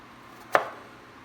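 A single sharp knife chop through a Yukon Gold potato on a cutting board, cutting it into dice-sized pieces, close and crisp against a quiet room.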